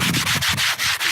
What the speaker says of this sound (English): my sister's doing a little bit of sanding.